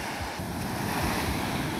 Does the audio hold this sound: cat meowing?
no